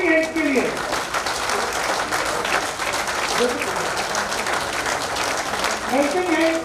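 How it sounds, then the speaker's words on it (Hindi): Heart club members in an Indore auditorium give a continuous round of applause for the volunteer helpers, a steady roar of many hands clapping, with a voice briefly heard at the start and end over it. "एक बार तालियां बजाएं सारे हेल्पिंग हैंड्स के लिए"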